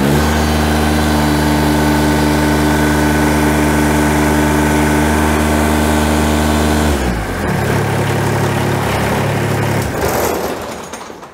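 A Kubota BX compact tractor engine idles steadily and loud up close with its hydraulic pressure raised, then partway through the tone drops and turns rougher as the load shifts, with no voices.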